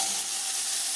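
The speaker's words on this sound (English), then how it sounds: "I'm going to go in with my cubed pumpkin." Cubed pumpkin sizzles in a pan over low heat in a vegan carrot pumpkin rice dish, a bright steady frying hiss with soft stirring, close and with no talking.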